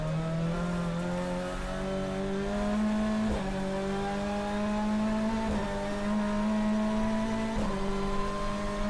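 Race car tyres at Brands Hatch Indy chirp briefly at the edge of locking under braking, heard through a loud, steady engine drone that climbs in pitch and dips at each gear change.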